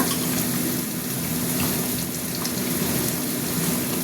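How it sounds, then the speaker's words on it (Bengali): Boiled bottle gourd tipped into a pan of oil-fried spices gives a steady, close, loud wash of sizzling and wet splashing that holds evenly throughout, with no voices. "এবার লাউটা ঢেলে দিচ্ছি। এই যে লাউ সিদ্ধ করা হয়েছিল, লাউটা ঢেলে দিলাম।"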